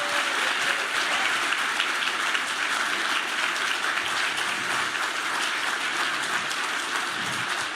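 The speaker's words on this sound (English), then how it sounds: "Let's first give a huge round of applause right here." An audience at a live panel discussion breaks into sustained, even applause, a dense wash of clapping that holds steady throughout without pause.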